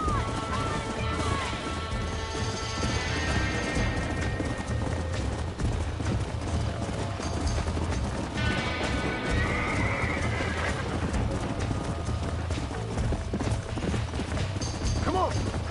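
Horse neighs and whinnies repeatedly over galloping hooves in the Red Dead video game, a stallion running off, with a loud, steady clip-clop throughout.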